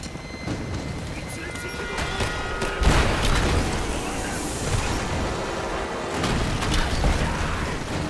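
Grenade explosions in the video game Rise of the Tomb Raider, a loud booming blast around the middle followed by rumbling debris and continued heavy action noise with a second swell near the end.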